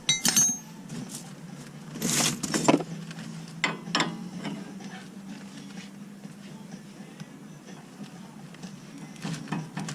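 A wrench snugs the tie rod jam nut on a Dodge 2500, giving a few sharp metallic clinks and ratcheting clicks over a quiet background, with a faint voice here and there.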